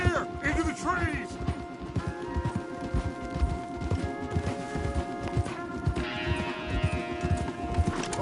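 Horses gallop in a video game, rapid rhythmic hoofbeats pounding steadily up close throughout, with a brief whinny early on and musical tones layered underneath.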